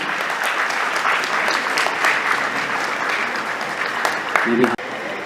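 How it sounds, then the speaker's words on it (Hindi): Loud audience applause at an award felicitation ceremony greets a guest on stage, a sustained dense roll of clapping from a large crowd with a brief voice rising near the end. "जोरदार तालियों के बीच स्वागत करेंगे अजय जी का"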